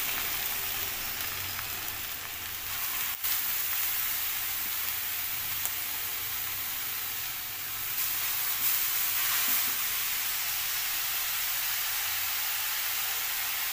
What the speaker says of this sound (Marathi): त्याच तुपामध्ये आपल्याला खिसलेलं गाजर टाकायचं आहे।